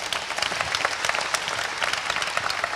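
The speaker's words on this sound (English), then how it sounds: "let us give applause to" Summit audience in a conference hall applauding its speakers, a steady, fairly close burst of many hands clapping with no talk over it.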